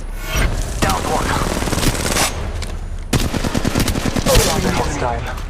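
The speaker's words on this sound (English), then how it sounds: "Firing. They're shooting at me." Automatic weapon fire in the mobile battle royale game Apex Legends Mobile, loud rapid bursts in two long strings separated by a brief pause, with game voice lines over the shooting.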